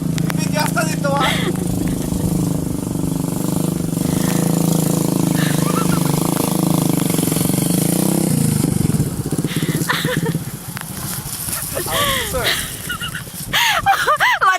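A motorcycle engine runs steadily and loudly at a nature slide in Canlaon City, then drops away as voices talk over it near the end.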